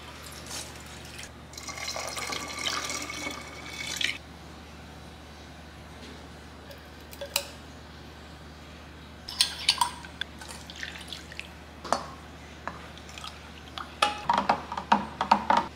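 Water poured into a cooking pot holding pork ribs, with splashing and trickling in short bursts, followed by drips and light clatter of the pot, close by and fairly quiet.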